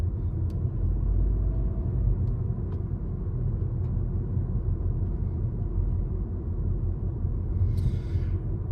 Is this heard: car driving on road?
yes